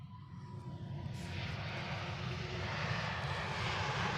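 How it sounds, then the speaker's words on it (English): An Airbus A350 airliner lands at Zurich Airport, its jet engine roar swelling to a steady, broad rumble and rush that holds loud through the end, without voices. "you folks did not see the A350 landing"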